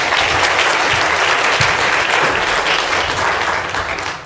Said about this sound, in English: We just give Matt a round of applause.